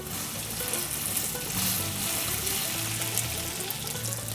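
Figs stir-fried in a pan with salt, sugar and green chilies hiss in a soft, even sizzle that stays steady and fairly quiet throughout, with no talking.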